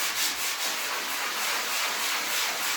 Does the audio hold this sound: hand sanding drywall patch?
yes